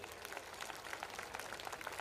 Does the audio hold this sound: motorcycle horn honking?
no